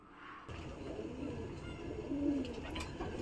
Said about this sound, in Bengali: দেখলেন যে পায়রা কিভাবে খাচ্ছে খেয়ে দেখুন খুব আনন্দতে খাচ্ছে ওরা